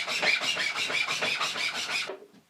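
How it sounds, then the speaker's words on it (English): Rapid rasping strokes of a round chainsaw file widening notches in a laminated wooden bow, about a dozen even back-and-forth passes, close and crisp, then stopping. "I think I'll just widen those up a touch with a chainsaw file"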